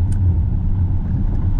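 A Mercedes EQS electric car accelerates past in city traffic, heard from inside as a steady low road rumble and hum with no talk.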